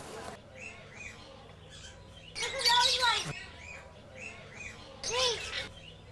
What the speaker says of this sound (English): There's birds in there.